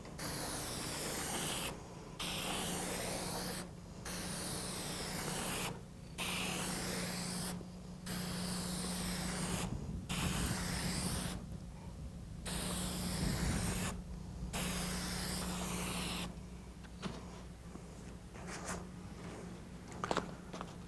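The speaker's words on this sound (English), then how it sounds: "We're going to use the Mar-hyde aerosol spray paint on this car to spot it in." Mar-hyde aerosol spray paint hissing onto a car body repair spot, loud and close, in a series of sustained bursts separated by short pauses, then softer intermittent puffs at the end.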